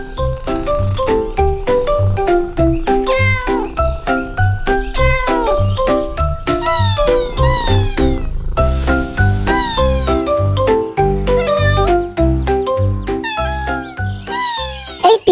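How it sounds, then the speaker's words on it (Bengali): A cat meows for a biscuit again and again in loud, close, drawn-out calls, layered over bright, jingling music that plays throughout. "আমি মেও মেও মেও মেও করতেছি"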